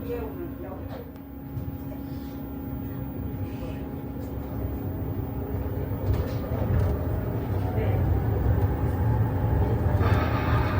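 A Wolmi Sea Train departs Wolmi Culture Street Station in Incheon, rumbling with a low, continuous roar that grows gradually louder as it picks up speed, with rattling and mechanical hum throughout.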